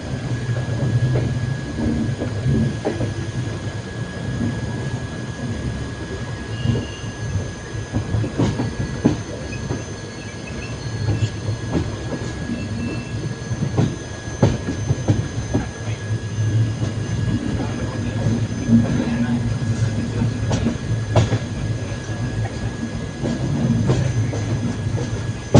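Continuous rumble and rhythmic clickety-clack of an express train, heard from inside a general coach while running through Dum Dum Junction without stopping, with occasional wheel squeal, steady and close throughout.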